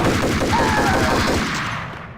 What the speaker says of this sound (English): Where's he shooting from?